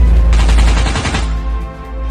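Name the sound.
gunfire from Free Fire video game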